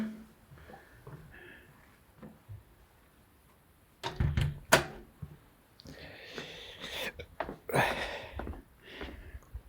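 A cellar door is shut, with a cluster of sharp clunks and latch rattles close by, followed by shuffling and heavy breathing in a quiet room.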